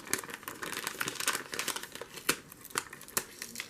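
Paper packaging on a mailed parcel being torn and crinkled open, a quiet run of rustling rips and crackles with sharper tearing bursts scattered through, close up and without talk.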